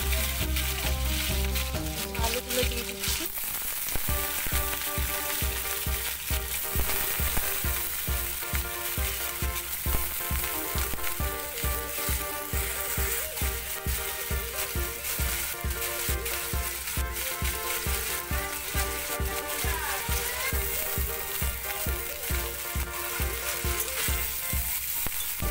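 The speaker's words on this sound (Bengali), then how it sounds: "তেলটা গরম হয়ে গেছে এর মধ্যে আমি দিয়ে দেব আলুগুলো" Potato pieces fry in hot oil in a home kitchen, giving a continuous, close sizzle with occasional stirring, and no talk over it.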